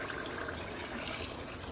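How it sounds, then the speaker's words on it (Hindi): Reserved water poured into a pan of simmering besan gatte curry, a steady continuous splashing pour heard close and alone for a short stretch. "वो पानी डाल देते हैं।"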